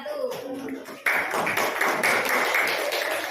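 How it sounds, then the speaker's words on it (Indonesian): Classroom applause for a student group, a burst of quick clapping from many hands that starts abruptly after a spoken line and carries on steadily, moderately loud. "Tepuk tangan untuk kelompok 1."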